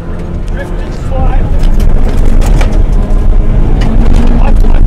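A Junior 1000 rally car engine roars loudly and continuously while drifting through right and left slides, a steady broadband drone that swells after the first second, with speech mixed in.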